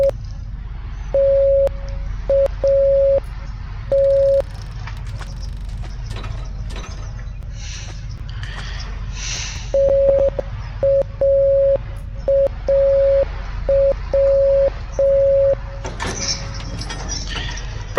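Morse code message beeped as a steady electronic tone in short and long bursts, loud and clear in two separated groups over a low rumbling background, with faint scattered noises between.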